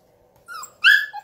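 A dog whines high and thin, then lets out a sharp, loud bark followed by a short yelp, close by with no talk over it.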